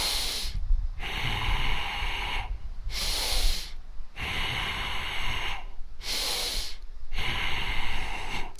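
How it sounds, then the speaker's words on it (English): Heavy, forceful breathing during a seated dynamic tension exercise, long hissing inhales and exhales in a steady rhythm of about five cycles, close and loud with short pauses between. "we're going to do a few of the actual dynamic tension breathing exercises."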